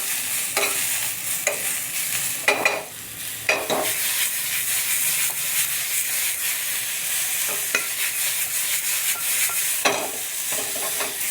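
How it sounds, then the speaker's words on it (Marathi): Long-cut pieces of a large tomato fry in a pan for shev bhaji. A continuous bright sizzle is broken by a few louder scraping stirs, with no talking. "तर त्याच्यामध्ये ना एक मोठ्या आकाराचा टोमॅटो असा लांबसर कट केलेला आपल्याला टाकून घ्यायचा आहे. तो पण फ्राय करून घ्यायचा आहे त्याच्यातच."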